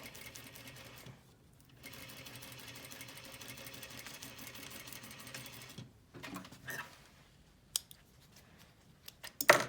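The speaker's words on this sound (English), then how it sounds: "So I can fold it on that first stitch that I made here and sew on the edge" A sewing machine stitches along the fabric edge around the elastic of a single-layer face mask, running in a steady whirring burst, pausing, then restarting in short runs with small clicks, fairly quiet and close.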